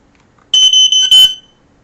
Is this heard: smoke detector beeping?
yes